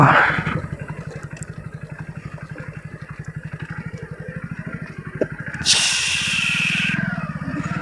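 A Hero Splendor motorcycle climbs an off-road hill trail, its single-cylinder engine thumping in a steady close putter, with a brief hissing burst of wind or gravel near the end.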